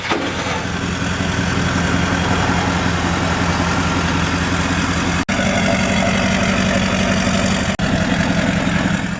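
A Toyota Land Cruiser 200 series running on a straight-pipe exhaust idles with a steady, loud, deep rumble that holds evenly throughout, broken only by two brief dropouts, with no voices.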